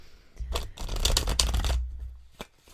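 Rough, worn tarot cards are shuffled in a rapid riffling burst, a papery flutter lasting over a second, followed by a single soft snap.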